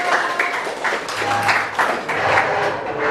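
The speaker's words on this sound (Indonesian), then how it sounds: "tepuk tangan buat anak-anak" A classroom group claps for children during a teaching session: a steady, moderately loud patter of many hands with a faint low hum beneath.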